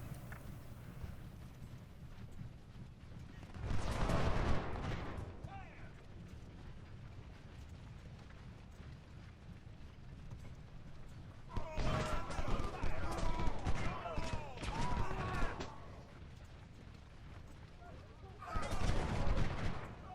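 Musket volleys from Civil War infantry in the strategy game Ultimate General: Civil War at the Battle of Logan's Crossroads, heard as three separate bursts of crackling fire over a quiet battlefield background.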